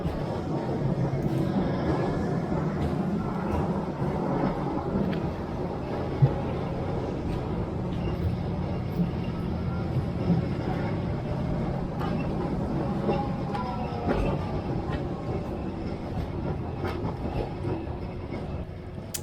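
A historic Santa Teresa tram in Rio de Janeiro rumbles steadily along its rails, a continuous low rolling clatter with occasional faint squeals and knocks, close and sustained throughout.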